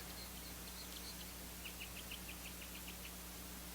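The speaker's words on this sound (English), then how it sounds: "You can hear the birds." Birds chirping outdoors beyond an open studio door on a sunny day, faint and distant: a few scattered high calls early on, then a quick run of short repeated chirps, all over a steady low background hum.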